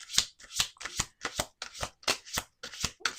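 A deck of oracle cards is shuffled in short, crisp bursts, about nine evenly spaced riffles close by with brief gaps between them and no voices.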